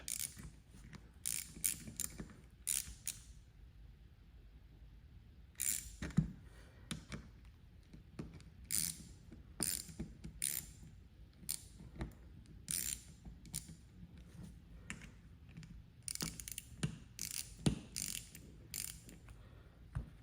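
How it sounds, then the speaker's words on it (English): A wrench snugs down the screws on a 1999 C5 Corvette pop-up headlight, giving faint, close ratcheting clicks in short, irregular bursts across a quiet background. "hit them with the wrench till they're snug"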